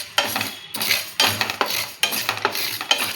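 Fenugreek and mustard seeds dry-roasting in a pan over a low gas flame, stirred with a utensil: close, rhythmic scraping strokes with a faint rattle of seeds.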